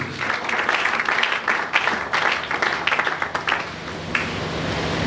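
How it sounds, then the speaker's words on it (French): Applause from a church congregation during a French-language worship service, a steady wash of clapping that swells and holds across the whole stretch, close and fairly loud. "Acclamons très fort pour le Seigneur Jésus."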